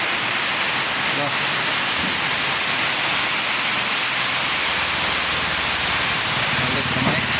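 Heavy rainfall pours down during a storm in Cabadbaran City as flooding begins, a loud, dense, continuous hiss of rain with no break. A few faint voices can be heard underneath.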